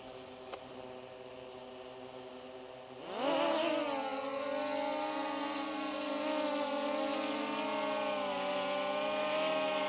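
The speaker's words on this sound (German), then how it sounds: "Jetzt starten wir die Drohne mal." A HYTOBP AE8 drone starts up after a quiet moment, its motors rising into a loud, steady whine with a rich buzzing tone that holds close and constant as it takes off and hovers.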